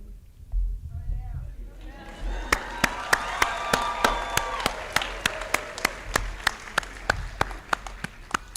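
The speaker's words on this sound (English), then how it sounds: "a major round of applause to you all for completing this chapter of your life." Graduation audience applause at a school of the arts ceremony, building from a few claps into a steady crowd ovation with rhythmic clapping, after a brief voice at the start.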